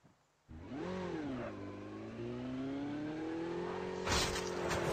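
A motorcycle engine in the Call of Duty video game starts and revs, its steady mid-pitched drone rising briefly and then holding loud and continuous, with a rougher burst of noise near the end.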